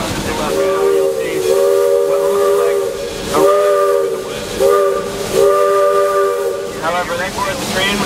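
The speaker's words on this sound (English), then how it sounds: "when you hear four short toots on the whistle" The whistle of Roaring Camp Railroad steam locomotive No. 40 gives several short blasts separated by brief gaps over a steady hiss of steam, loud and close, at the depot.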